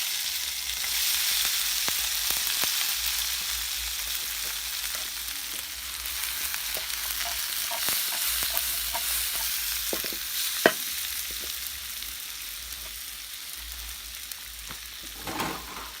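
Ingredients for ackee and saltfish fry and sauté in a pan, giving a continuous crackling sizzle with scraping stir clicks and an occasional sharper knock, and no speech.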